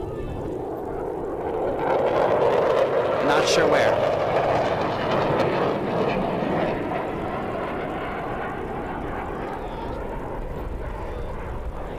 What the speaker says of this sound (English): That's a jet. That's a jet. I hear a jet.